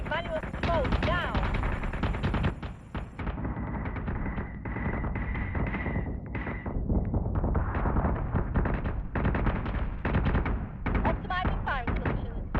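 Starship guns fire repeatedly in the space combat game Battlestar Galactica Deadlock, rapid percussive blasts and booming volleys in dense bursts, with a synthetic tone and brief voice lines mixed in.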